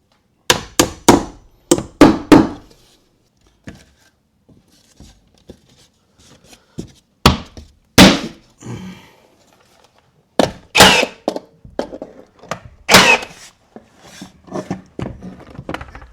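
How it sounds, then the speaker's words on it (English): A builder hammering on site: bursts of sharp, loud blows in quick clusters, near and percussive, with quieter knocks and gaps between the runs of strikes. "Might need a hammer, mate."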